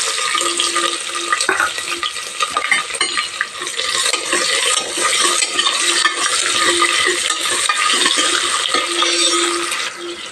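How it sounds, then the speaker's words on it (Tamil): Onion hits hot oil already seasoned with cumin, fennel and bay leaf, setting off a continuous close sizzle with intermittent stirring clinks of a spoon against the pan. "இப்போ வெங்காயம் சேர்த்திக்கிறேன்."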